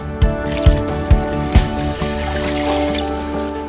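Water is poured into a vessel to make salt brine for traditional Korean soy sauce, a steady close splashing trickle broken by several soft gulping pulses.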